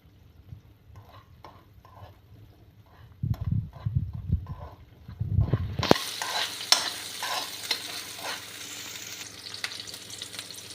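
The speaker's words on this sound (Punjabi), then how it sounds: "ਆਪਾਂ ਤੜਕੇ ਨੂੰ ਬਰਾਊਨ ਹੋਣ ਤੱਕ ਭੁੰਨਾਂਗੇ" Tempering spices (tadka) frying in a pan until browned, with chopped onion, as part of a bread breakfast dish; soft scraping stirs at first, then a loud steady sizzle takes over after a sudden rise in intensity.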